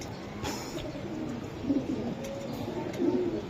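A Johnson-bloodline racing pigeon gives two soft, low coos over a quiet indoor background, each brief and close.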